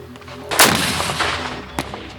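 A single loud, sharp blast of an RPG-7 shoulder-fired grenade launcher during a training exercise, followed by a rumbling, echoing tail that fades over a couple of seconds.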